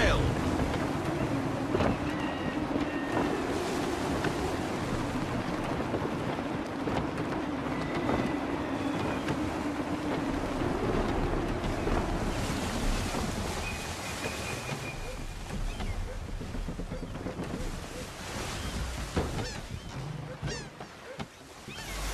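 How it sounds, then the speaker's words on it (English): Gusty wind and rushing waves surround a sailing ship in the video game Assassin's Creed III, a loud continuous roar of sea and air with creaking and faint horn-like tones, under occasional voices. "Gusty winds can be difficult to manage."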